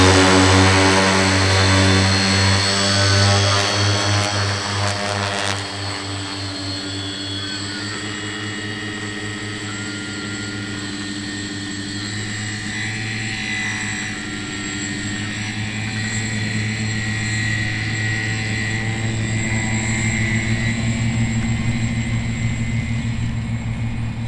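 A homemade DIY airplane's engine and propeller drone steadily and loudly through a long stretch, a strong buzzing hum with rich harmonics that stays close and constant as the aircraft runs and flies, with no voices.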